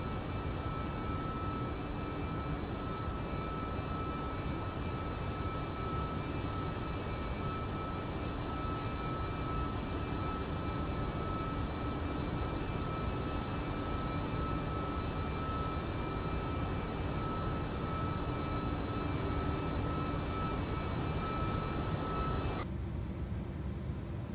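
MD-11 airliner engines in X-Plane 12, a steady loud broadband roar with a constant whine, holding unchanged for over twenty seconds before cutting off near the end.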